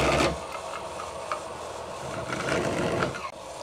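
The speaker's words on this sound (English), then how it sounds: "It's a nice little countersink on each one." Countersinking holes in metal for a homemade jet engine part, heard as a steady, close, grinding whir from the tool cutting into the metal, fairly continuous with slight rises and a brief dip near the end.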